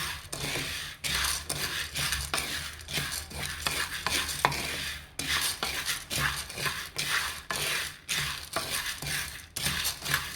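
Soya beans roast in a pan under constant stirring, a rapid rhythmic series of dry scraping and rattling strokes with a faint sizzle, close and continuous with no voices.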